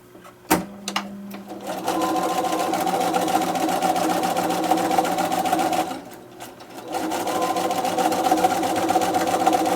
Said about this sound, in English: here is another piece I'm going to layer right on top and send through the machine.